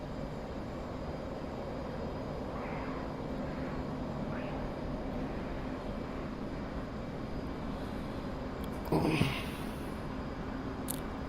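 A jet in DCS World flying an aerobatic roll gives a steady low engine roar throughout, with a brief burst of radio-like noise near the end.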